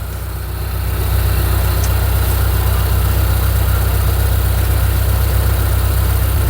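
A Mitsubishi car with a free-flow exhaust, cold air intake and iridium plugs idles steadily, a deep, even rumble with a low throbbing pulse that builds slightly at the start and then holds constant, close and loud with no talking.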